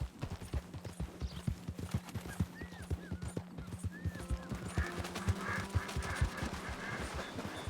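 A horse's hooves clip-clop in a steady trotting rhythm across a western game landscape, close and continuous, with birdlike calls and faint background sounds around them.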